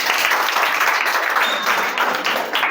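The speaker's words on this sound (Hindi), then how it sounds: "नैतिक पाल के लिए तालियां हो जाए" A classroom of children claps for a young pupil, a brisk, close burst of hand clapping that stays loud and steady with no talking over it.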